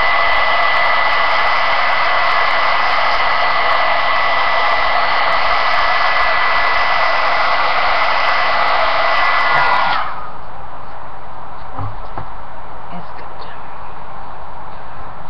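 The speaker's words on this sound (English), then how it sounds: "I'm just going to take my heat gun to this real quick and shoot it across my table" A heat gun blows hot air across a crafting table as a loud, steady rushing roar for about ten seconds, then cuts off, leaving a quiet room with a few faint knocks.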